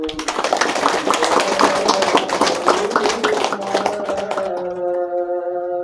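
Applause from a gathering at a spiritual teaching session, steady dense clapping lasting several seconds before thinning out into a sustained tone at the end.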